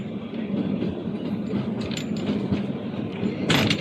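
A Kalka Shimla Railway coach rolls along the narrow-gauge Himalayan track with a steady rumbling drone and faint clicks, ending in a sharp metallic screech.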